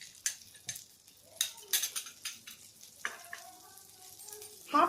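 Butter melting in a kadhai makes a faint, light sizzle, with scattered clinks and scrapes of a spoon against the metal and a louder clatter at the end.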